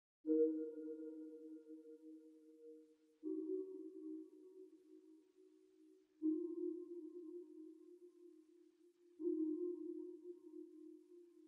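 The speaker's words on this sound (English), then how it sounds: "It's like a pluck that I turned into a pad." A synth pad built from a pluck with reverb and chorus plays four soft sustained tones, each swelling in on a new note about every three seconds and gently fading, quiet and alone.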